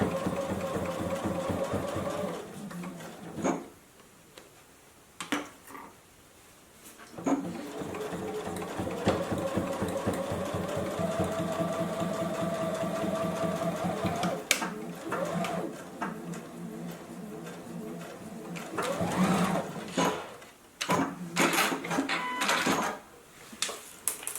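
A JUKI sewing machine stitches over the pleats of a face mask in bursts, a fast mechanical whirring hum with short pauses between runs, fairly quiet and without voices.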